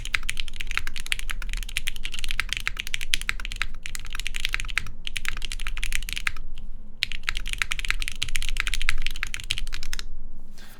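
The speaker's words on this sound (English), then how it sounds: "the typing itself is still pretty comfortable" Steady, rapid typing on a Mode Sonnet keyboard fitted with Box Ink switches, close and crisp with dense keystrokes and a few brief pauses, no voice.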